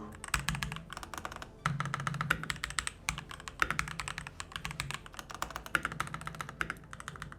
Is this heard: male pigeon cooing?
no